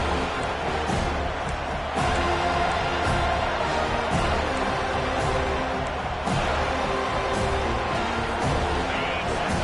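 A stadium crowd roars in a Madden football video game as the defense tries to stop a drive in the red zone, a dense, continuous cheer with occasional sharp thumps.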